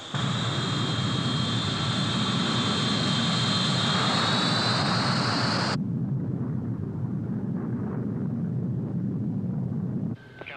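A large airliner jet roaring loudly and steadily on its takeoff run, the engine whine rising in pitch before the high tone cuts off and a broad rumble carries on.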